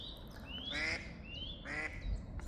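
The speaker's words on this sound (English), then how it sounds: "And a mallard, a female mallard that's coming out of there." A female mallard duck by a river gives two loud, raspy quacks about a second apart, close by and clear against quiet surroundings.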